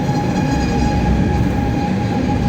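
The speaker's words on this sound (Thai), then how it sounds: "มาแล้วนะครับรถไฟโกลเด้นพาร์คนะครับ เข้าสู่ชานชลาเรียบร้อยแล้ว" A Golden Pass line train arriving at the platform of Montreux station, Switzerland, rumbles loudly and steadily nearby, a deep rolling roar with a faint metallic whine over it and no voices.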